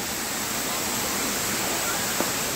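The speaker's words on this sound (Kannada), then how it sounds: "ಮಳೆ ಬಂದಿರೋ ಕಾರಣ ಬೆಟ್ಟ ಗುಡ್ಡಗಳ ಮಧ್ಯೆ ಸಾಕಷ್ಟು ನೀರು ಬರ್ತಾ ಇದೆ ನೋಡಿ" Rushing waterfall swollen by rain beside the Sringeri road in hilly country, a steady, dense roar of falling water that fills the whole clip at constant loudness, with no talk over it.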